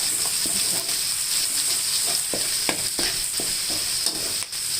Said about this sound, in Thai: แล้วก็จะทอดพริกแกงสุกก่อนนะคะ